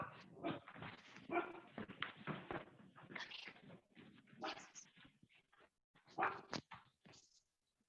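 Several dogs bark and whimper at the mailman in a house, with irregular bursts of yips and barks that fade out toward the end.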